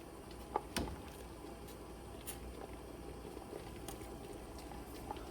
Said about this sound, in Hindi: चावल डालने के बाद एक बॉयल आ गया है।